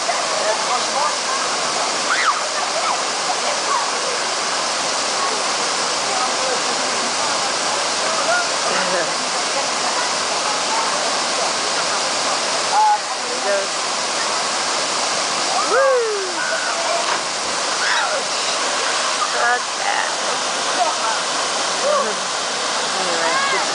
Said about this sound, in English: This is a waterfall that's pretty high.